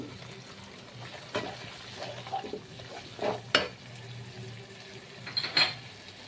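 Chicken kofta masala with cumin, garam masala and salt being stirred and sautéed in a pan, soft sizzling under a scatter of scraping spoon strokes and clinks against the metal, fairly quiet and close.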